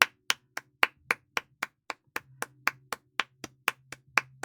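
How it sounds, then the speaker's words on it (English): A single person claps about eighteen times in an even rhythm, each clap sharp and close, with a faint low hum underneath. "Someone give Jay a round of applause."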